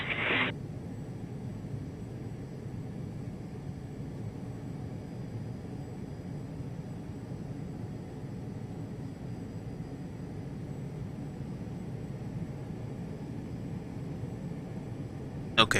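Airliner engines spooling on the takeoff roll in a VATSIM flight simulator, a steady, fairly quiet broadband roar that stays even from start to finish, with brief clicks at the very beginning and end.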